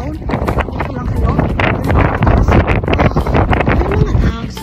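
Strong wind in Iceland roars and buffets the microphone in a loud, continuous rumble with gusty fluctuations, and a person talks underneath it.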